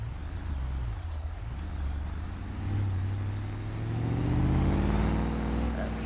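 A stiff car with stiff suspension driving off-road through a twig-strewn section in a driving video game, its engine droning low and steady, then revving louder toward the end over rough rolling noise.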